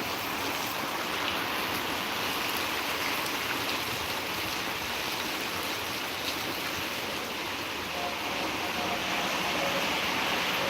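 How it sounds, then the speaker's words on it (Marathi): A dense, steady roar of heavy rainfall in Beed, Maharashtra fills the scene, broad and unbroken throughout, with no voices. "मुसळधार पाऊस आहे लाईव्ह पाऊस दिसत आहे बघा"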